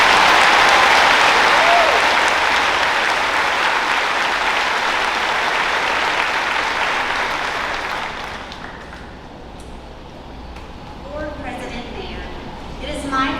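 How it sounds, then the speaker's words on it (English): Audience applause at a 2023 Dexter High School graduation ceremony, loud and sustained for about eight seconds before thinning into scattered claps, with a voice speaking briefly near the end. "Let's please give him a round of applause."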